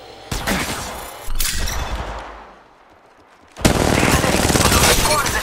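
Gunfire in Apex Legends: two loud shot bursts followed by a sustained rapid automatic volley that runs to the end, close and dominant.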